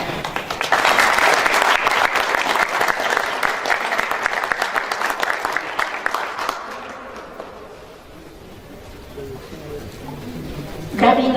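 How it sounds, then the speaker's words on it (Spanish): An audience at a cultural broadcast event honoring Mexican popular music breaks into loud, sustained applause that slowly fades toward the end, with a brief renewed burst at the close. "Un aplauso para él."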